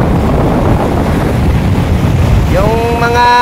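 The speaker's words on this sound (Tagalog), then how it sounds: "Yung mga hampas ng mga alon at saka hampas ng kasiyahan po ang nandito" Ocean waves washing onto a beach on a windy seaside day, a steady broad rush of surf close to the microphone with wind buffeting, and a faint whistle-like tone rising near the end.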